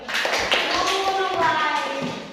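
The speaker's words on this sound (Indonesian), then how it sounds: "Tepuk tangan untuk kita semua." A classroom group of pupils bursts into brief, dense hand clapping, loud and close, with children's voices mingled in.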